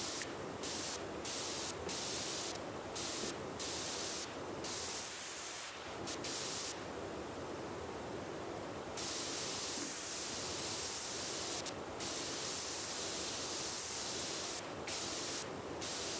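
Pressure washer in PowerWash Simulator 2 sprays in a continuous loud hiss, broken by short regular pauses and one longer break midway, with no talk over it.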